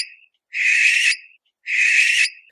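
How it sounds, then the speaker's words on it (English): A barn owl screeches twice as it flies overhead in Muleshoe, two long harsh hissing shrieks about a second each, loud and close with silence between them. "This is the creepy sound of a barn owl screeching here as it flew overhead"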